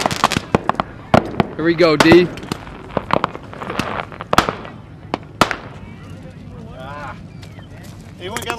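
Outdoor fireworks burst in sharp, loud bangs and crackling volleys, some near and some farther off, while people talk and call out between the blasts.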